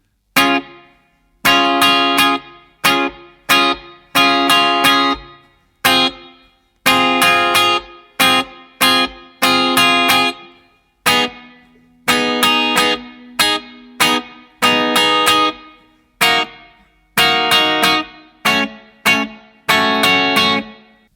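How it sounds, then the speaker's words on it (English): Strummed guitar chords ring out in short rhythmic bursts separated by clean silences, loud and close, with no speech. "we're going to take the muted strings out, but we're going to really hear for when the chords are played"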